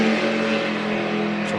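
NASCAR Sprint Cup car at Atlanta qualifying for the Kobalt Tools 500, its V8 engine droning loudly and steadily as the driver eases off after a lap.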